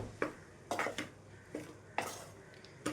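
Egg fried rice is stirred in a pan, a spoon or spatula scraping and clinking against the metal in a loose rhythm of about six strokes, close and fairly quiet, with no voice over it.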